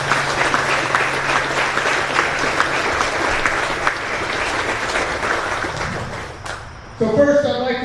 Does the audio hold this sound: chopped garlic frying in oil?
no